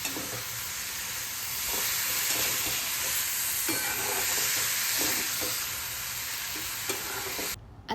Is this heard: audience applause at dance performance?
no